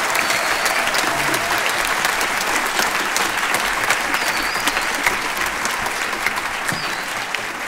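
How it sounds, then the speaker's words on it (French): A concert audience at the Palais des Congrès of Futuroscope applauds the venue's staff, a dense, steady wash of many hands clapping that holds for several seconds, close and loud with a few cheers mixed in. "Je vous demande d'applaudir toute l'équipe du palais des congrès"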